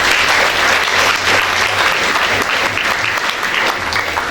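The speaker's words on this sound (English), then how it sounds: "Start with the clap only" At a school award ceremony honouring class 12 students, a large audience claps continuously, a loud, dense crackle of hands holding steady throughout.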